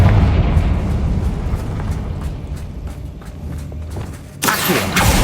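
Confringo blasting spell in Hogwarts Legacy on PS5: a low, rumbling game soundscape with faint repeated thuds, then a sudden loud, bright blast near the end that keeps roaring.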